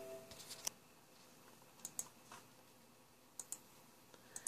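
Several sharp computer keyboard clicks from shortcut presses while fixing Trainz content, coming in small bursts of two or three taps against a quiet room background.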